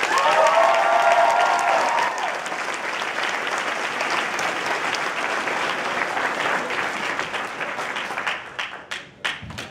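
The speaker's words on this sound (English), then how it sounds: "give him a round of applause" Applause from a convention panel audience at A-Kon 23, dense and sustained for nearly the whole stretch and fading out near the end, with a brief cheer or voice rising over it at the start.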